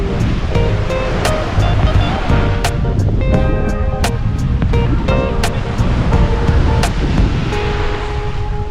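Sea waves wash continuously onto the shore at a pool-and-beach resort in Bataan, a steady loud surf roar with wind buffeting the microphone throughout.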